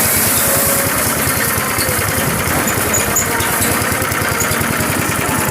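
A homemade rice threshing machine's engine runs steadily, a loud, continuous pulsing drone with a fast regular beat throughout and no talking.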